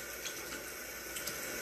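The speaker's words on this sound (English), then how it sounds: "I take warm water, and I wet my throat." Warm water runs from a bathroom tap in a quiet stream, faint and steady for a moment, with no voices.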